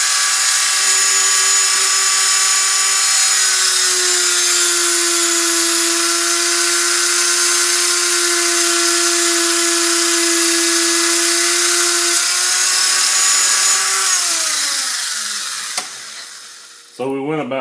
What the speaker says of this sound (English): You can take your Dremel and just start cutting a little perfect little